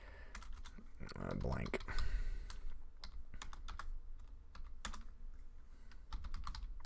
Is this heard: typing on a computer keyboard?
yes